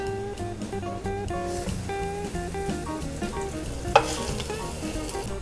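Beef shanks browning in a hot pan for osso buco Milanese, a steady close sizzle and frying crackle running throughout with one sharp clink partway through.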